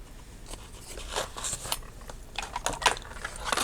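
Scissors cutting craft material for a tunnel tag: quiet, close snipping and crisp crunching cuts in an irregular series, with light paper rustling.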